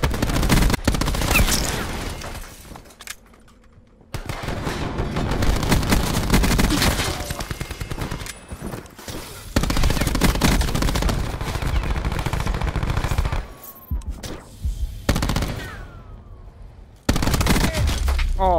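Rapid automatic gunfire from a new gun in a Search and Destroy match video game comes in loud, dense bursts separated by brief silent gaps, with voices mixed in.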